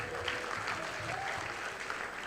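Audience applause at a stand-up comedy show rolls on steadily for a couple of seconds, a dense wash of clapping heard from within the crowd.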